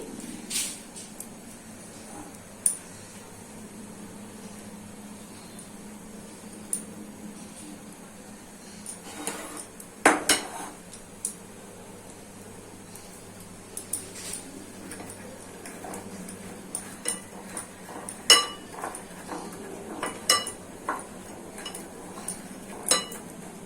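Metal wok set down on a gas stove with scattered clinks and taps of pots and utensils, light and intermittent over a quiet room background, with sharper knocks near the middle and toward the end.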